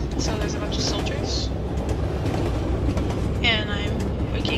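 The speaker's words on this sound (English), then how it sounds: "And I think we're on a train, it sounds like." A train rumbling along in the game Tunnel 54, a continuous low rolling drone with occasional higher squeals and hums rising over it, while a person talks throughout.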